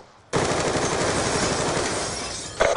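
Sustained rapid automatic fire from a Type 25 assault rifle in the shooter game Black Ops 2, starting abruptly after a brief quiet and running loud and continuous for over two seconds.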